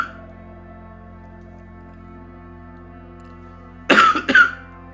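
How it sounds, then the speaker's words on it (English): A steady low electrical hum gives way near the end to two rough, close coughs in quick succession, loud and isolated against the hum. "sorry for coughing these last few episodes"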